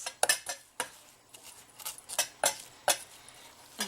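A spoon clinks and scrapes against a bowl while stirring a melted chocolate mixture for Easter nests, giving a run of sharp, close taps and scrapes at an uneven pace with no voices.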